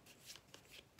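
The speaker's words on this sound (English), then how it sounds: "They want me to shuffle." Quiet, close riffle-shuffling of a deck of tarot cards, two or three short papery bursts in quick succession with no voices.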